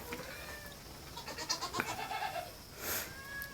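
Goats bleat on a farm after milking during dry-off, a few faint, wavering calls spaced out against a quiet background, with no talking.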